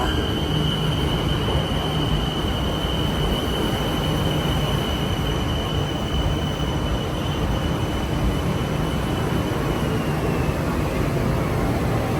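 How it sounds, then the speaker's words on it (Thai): A train rumbles in with a continuous roar and a thin, high wheel squeal drawn out over it, loud and steady throughout. "รถไฟ มาแล้ว"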